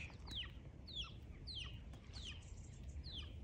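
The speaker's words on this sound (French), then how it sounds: "Tic Tac, celui dont je parlais, le coq." Tic Tac, a farm rooster, gives soft repeated clucks and short chirpy calls in a quick irregular series, faint and a little distant over low outdoor rumble.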